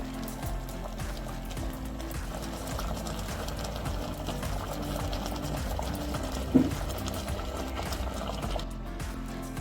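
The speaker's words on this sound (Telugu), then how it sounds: "బెల్లం నీళ్ళు బాగా మరిగితే టేస్ట్ బాగుంటుంది." Jaggery water boils steadily in a pan while sweet jaggery dumplings are being made, a continuous bubbling hiss with one brief knock near the end.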